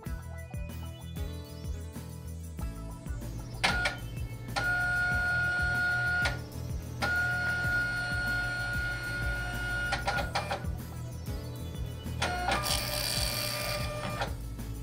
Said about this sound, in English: Wait for the printer to restart and print a configuration label.